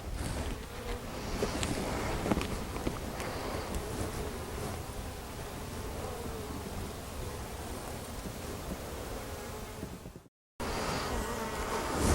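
Honey bees buzzing around an open hive during a beekeeping inspection, a dense continuous hum filling the air close to the microphone, with a brief dropout near the end.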